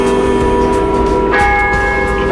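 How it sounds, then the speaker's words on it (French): A church bell rings steadily and loudly, its sustained metallic tones sounding alone with no talking over them. "Une cloche sonne, sonne, elle chante dans le vent"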